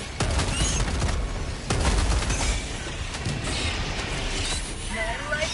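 Rapid, dense gunfire from Helldivers 2 rattles continuously, with crashing booms and impacts layered over a loud battle din. There is no clear talking.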